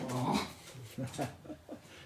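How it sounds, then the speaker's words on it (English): A schnauzer dog whimpers and whines in a short series of soft, high cries and breathy pants, close and fairly quiet, with a brief burst of louder sound at the start. "Yes, my dog is a schnauzer."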